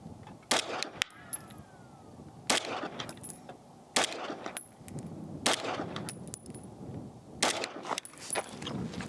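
A Bul Armory PRO 5-inch pistol fires five rounds of 124-grain ammunition at a target ten yards away. The shots are loud, sharp and evenly spaced several seconds apart, over a faint background.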